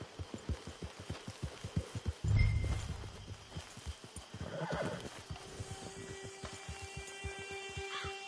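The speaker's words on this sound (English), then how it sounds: "There's the camp. It's your horse." A horse in the Red Dead Online video game whinnies once near the start, then its hooves clip-clop in a steady, close rhythm that continues throughout, with a faint low ambient bed beneath.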